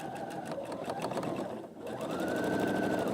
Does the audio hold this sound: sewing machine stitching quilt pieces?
yes